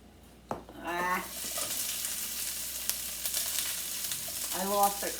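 Onions, carrots and peppers dropped into hot olive oil, a steady close sizzle after a sharp clatter, with brief voice-like bursts at the start and end.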